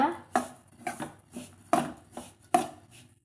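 Rice rava roasting dry in a pan, stirred and turned with a utensil: about six clattering scrapes and knocks come in quick succession, close and fairly loud, with no voices.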